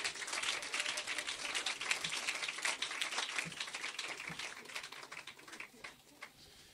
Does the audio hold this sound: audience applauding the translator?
yes